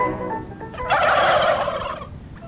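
A burst of rapid gobbling from several American turkeys at once, loud and close, rising over about a second then trailing off.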